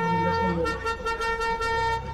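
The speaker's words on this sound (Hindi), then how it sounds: "हॉर्न बजा के भाई दोबारा बजाते हैं हॉर्न" A car horn honking in GTA 5, heard as a sustained, steady tonal blare with strong harmonics that keeps going through the whole stretch, with slight dips in level.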